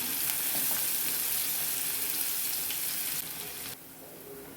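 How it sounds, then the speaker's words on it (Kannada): Onion frying in a pan of oil for gobi manchurian, a steady close hiss of sizzling that drops noticeably quieter toward the end, with no talking. "ಈರುಳ್ಳಿ ಹಾಕ್ಕೊಳ್ಳೋಣ ಸ್ವಲ್ಪ ಫ್ರೈ ಮಾಡ್ಕೊತೀನಿ"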